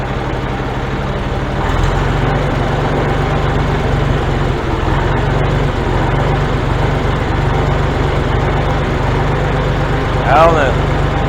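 A heavy tractor engine fitted with a Marvel Schebler carburetor idles with a steady low rumble close by, while a person speaks briefly over it.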